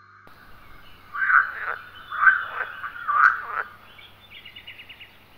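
A toad croaking three times in a slow, evenly spaced rhythm, each call a loud close rasping burst, followed by a fainter rapid trill.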